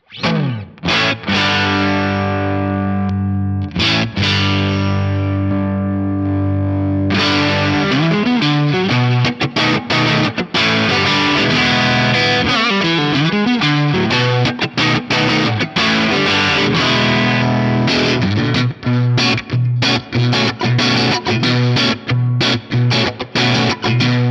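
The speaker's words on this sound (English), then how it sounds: "we should all investigate what this sounds like with the T808 as a boost in front of it" An Axe-Fx III guitar amp tone pushed by a T808 boost pedal plays a loud, distorted riff: sustained heavy chords, quick muted chugs and pauses, and busy single-note runs throughout, with no voices.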